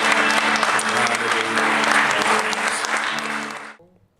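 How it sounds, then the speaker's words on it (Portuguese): Loud, sustained applause from a church congregation after a call to praise the Lord, dense and steady before cutting off abruptly near the end. "Vamos dar uma salva de palmas ao Senhor"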